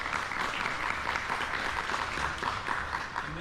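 A room full of people claps steadily for a few seconds after a talk on medieval fencing, a dense patter of applause with no speech over it.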